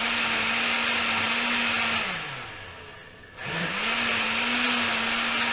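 Blender pulping paper for papermaking whirs loudly and steadily, then cycles down, dips to near silence and spins back up to full speed, alone with no talk.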